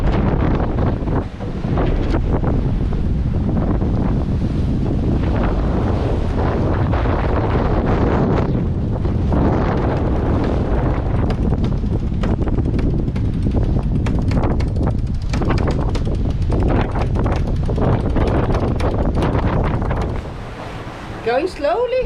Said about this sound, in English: There's 8-9 knots of wind, but it's fine.